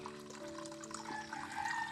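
Steady flowing and trickling water at an outdoor bathing spot where people wash, a continuous faint pour with a constant hum underneath.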